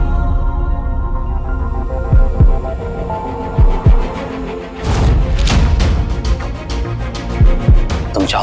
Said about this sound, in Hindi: तुम चाहो तो मेरी दिल की धड़कन को सुन भी सकती हो और महसूस भी कर सकती हो।